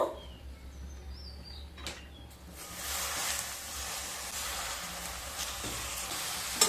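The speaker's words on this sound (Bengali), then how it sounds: "এবার কড়াইতে ধনেপাতাগুলোকে দিয়ে দেব।" Coriander leaves hit hot oil in a wok, and a soft hiss quickly swells into a steady sizzle that carries on to the end, with a faint chirp early on and no talking.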